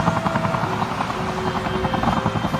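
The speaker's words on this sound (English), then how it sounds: "when Howard the Flopper Chopper flies past here" A toy helicopter named in a children's railway story flies past, its steady rapid rotor chop continuous and fairly loud throughout, with a faint engine whine layered over it.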